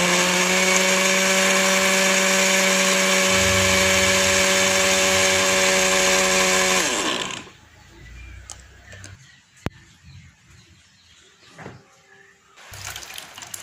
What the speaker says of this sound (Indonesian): Setelah itu, blender ubinya ini sampai halus.